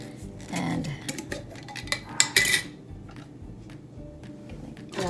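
A spoon clinks and scrapes against a bowl while pumpkin waffle batter is prepared, a run of sharp, irregular metallic taps and knocks up close, with a couple of louder clatters in the middle.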